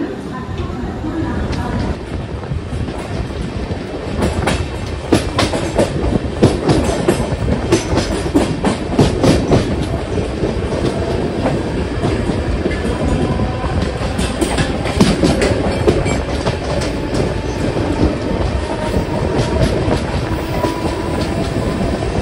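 The LHB coaches of the 12133 Mangalore express run along the rails, a loud close rumble with rapid clickety-clack beats over joints sustained throughout, with voices talking over the train noise.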